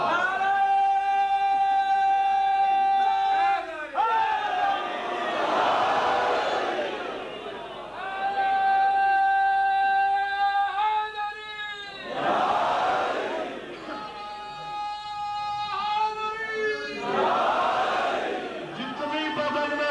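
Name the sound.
crowd chanting religious slogans (naara) at a sermon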